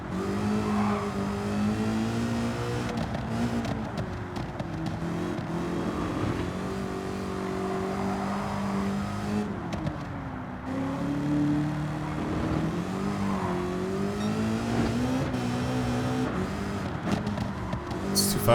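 A tuned race car in Gran Turismo 7 accelerating hard, the engine note climbing and shifting continuously, close and loud, with a brief tire squeal and almost no talk.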